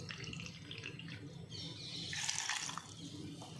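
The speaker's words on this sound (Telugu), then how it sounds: "ఒక పావు కప్పు నీళ్లు వేసి" Water is poured into a bowl of jaggery while making sweet wheat-flour bondas, giving a brief splashing gush over a steady low kitchen background, with no talking.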